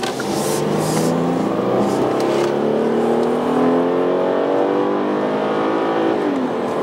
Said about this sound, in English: Hard to believe the car's a 6-cylinder the way it accelerates.